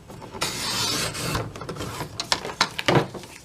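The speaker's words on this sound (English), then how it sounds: "the easiest way to do that is just to put it in my trimmer, and I line up the 2 points" A paper trimmer slices through a bookmark for a journal: a sliding blade rasps along the card, followed by a scatter of sharp clicks and taps as the paper is handled, close and fairly quiet.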